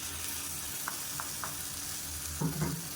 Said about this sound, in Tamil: மீடியம் சைஸாக ஒரு 3 தக்காளி வந்து மிக்சியில் அடித்து வச்சுருக்கேன், அதை சேர்த்துக்கலாம்.